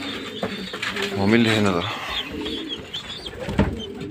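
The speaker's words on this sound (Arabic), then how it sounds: "طبعا انا لسه صاحي دلوقتي حالا من النوم يا شباب. والله صاحي جاري عشان خاطر اطلع اكل حمام" Pigeons at a rooftop loft give a throaty, rolling coo, close and clear, mid-clip, while someone talks in Arabic over and around it, with light rustling and small bumps.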